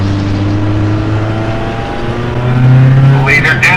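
Single-seater race cars in a Mid-Ohio sim racing game drone past with layered engine tones. One engine swells louder and higher near the end as cars go by, under a commentator's voice.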